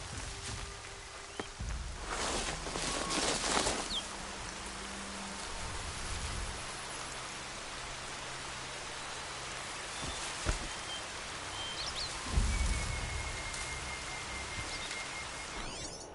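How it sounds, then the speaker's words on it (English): Steady rain falls around a camp in Horizon Zero Dawn, a continuous soft hiss of drops on surfaces at moderate level, broken by a few brief thumps and faint rustles. "Every time I get to a camp, it rains."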